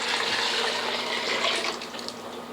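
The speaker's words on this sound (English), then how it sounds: "pour my chicken stock on there" Chicken stock poured into a pot for corn chowder, a steady, close rushing splash of liquid that tapers off slightly near the end, with no talking.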